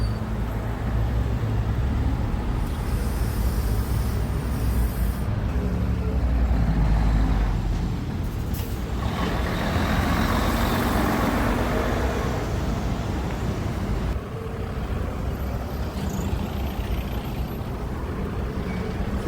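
Cars and heavier vehicles pass steadily along a street in Fushë Kosovë in the morning, a continuous close roadway rumble with swells as vehicles go by.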